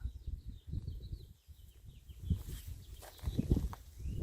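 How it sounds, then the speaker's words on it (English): Small birds chirp and sing faintly around a desert spring, their high calls scattered over low rustling and footstep-like thumps close by. "You hear birds singing."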